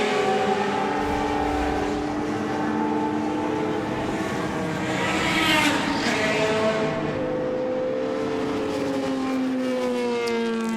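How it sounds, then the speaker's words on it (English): A Ferrari 312T Formula 1 race car with a white airbox, driven at a Goodwood Members' Meeting: a loud, high, rising and falling engine note as the car passes, swelling near the middle and fading away. "That's Rob Hall in the Ferrari 312T with the white airbox"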